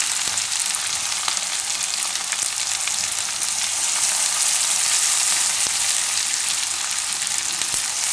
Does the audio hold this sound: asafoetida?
yes